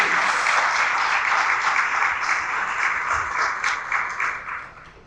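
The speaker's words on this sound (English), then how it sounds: "please join me in giving Radhika another big round of applause." Audience applause at a women's day celebration, steady dense clapping from a crowd throughout, tapering off at the end.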